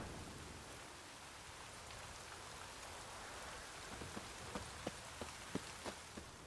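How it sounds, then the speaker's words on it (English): Quiet, steady rainfall hisses softly in The Witcher 3: Wild Hunt, with scattered individual drops pattering more distinctly toward the end. "Looks like rain."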